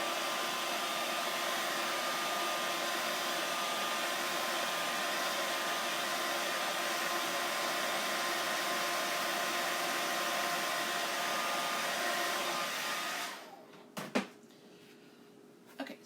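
A hair dryer blows steadily to dry paint on a painted Dollar Tree sign board, running loud and continuous for about thirteen seconds before switching off, followed by a couple of faint handling clicks.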